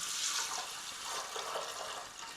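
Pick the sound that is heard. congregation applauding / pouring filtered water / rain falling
pouring filtered water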